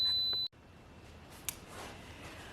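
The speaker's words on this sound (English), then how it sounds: "Hold on, the alarm is going off." A home alarm beeps in one steady high tone for about half a second, then cuts off, leaving quiet room noise with a faint click.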